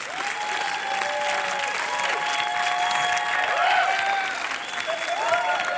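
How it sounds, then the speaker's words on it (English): Tennis crowd applauding and cheering in a large arena, a steady dense wash of clapping with scattered whistles and shouts rising and falling throughout, loud and continuous with no clear talk over it. "Do you hear the crowd kind of egging you on?"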